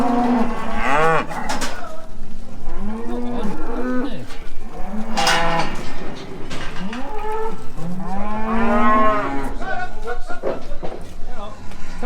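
Dairy cows mooing repeatedly as they are brought in, with several long, loud, drawn-out calls close by and people talking over and between them.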